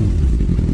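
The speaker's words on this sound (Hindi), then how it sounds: "यहाँ पे पहले इसके इंजन की साउंड सुनाते हैं लोगों को।" A motorbike engine in the video game Indian Bike Driving 3D gives a brief, loud, low rumbling drone with a slight clattering texture.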